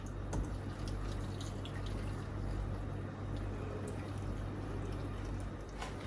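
Marinade with bay leaf and pepper is poured from a mug over baby peppers in a pot, a steady close splashing and trickling of liquid lasting several seconds with no talking.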